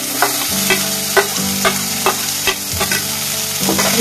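Chopped tomatoes frying with onion and chilli in a pan, a loud close sizzle punctuated by repeated rhythmic scrapes and taps of a spatula being stirred through; no speech.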